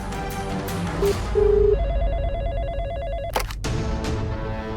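A telephone rings while a news channel is being called, giving a few electronic ringing tones and beeps over a low background hum, then a sharp click, with no talking.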